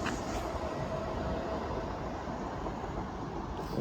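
A Class 357 electric train, unit 357044, rumbles past at Barking station in a steady, close broadband roar with faint rail rattle throughout.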